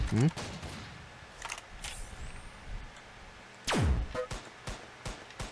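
Gunfire in a Roblox battle game, with loud bursts of shots and a falling whistle-like sweep into an impact, plus scattered clicks and a voice talking underneath.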